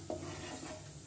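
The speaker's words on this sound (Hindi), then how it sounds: "1 स्पून जीरा डाल देंगे, अच्छे से चटकने देंगे" Cumin seeds crackle and sizzle in hot oil in a pan, a steady close hiss with faint pops over about a second, no voices.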